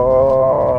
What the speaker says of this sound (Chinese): 有点像差速器的声音，